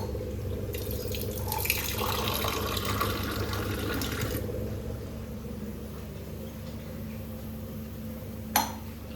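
Water is poured onto a pan lid to make steam over a cooking prawn masala, a close splashing rush for a few seconds that then gives way to a quiet kitchen hum with a brief clink near the end.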